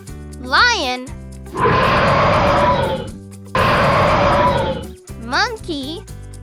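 Two long, loud roars from a lion fill the middle, each a rough, sustained rumble a couple of seconds long, framed by short spoken bits and playful music.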